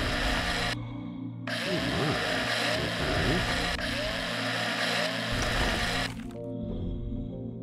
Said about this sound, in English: Let's do some drilling real quick and see what that gives.